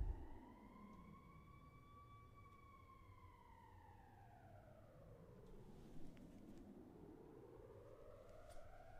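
A siren-like FM synth tone in Ableton trailing into reverb, faint and steady, its pitch sweeping slowly down and back up like a distant wailing emergency siren, with no talking.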